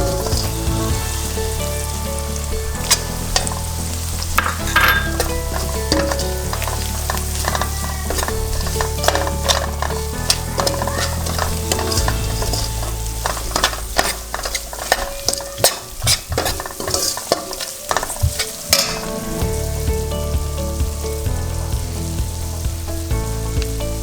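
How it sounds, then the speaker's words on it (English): Turmeric and red chili powder masala frying in oil, a constant close sizzle under frequent scraping and clattering of a spoon stirring the pan, busiest in the middle stretch. "Lower your heat. Add turmeric powder, red chili powder, and cashmere chili powder mix."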